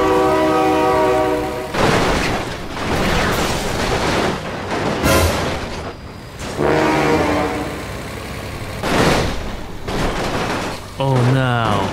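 Train horn blasts from a passing train in BeamNG.drive, repeated several times with a rumbling rail roar, loud and close, interleaved with excited shouting.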